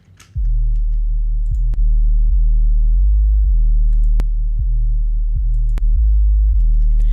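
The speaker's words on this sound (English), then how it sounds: "Distortion is great for 808s. It adds harmonics to them, and this is what it sounds like before and after." A deep, sustained 808 bass plays a repeating pattern of long notes with pitch glides, heard before and after distortion adds harmonics, loud and alone, with sharp clicks between some notes.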